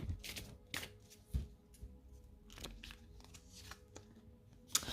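Oracle cards being shuffled by hand, soft papery riffles and taps coming in irregular bursts, close but faint in a quiet setting.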